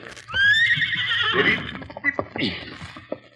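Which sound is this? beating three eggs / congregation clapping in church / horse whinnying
horse whinnying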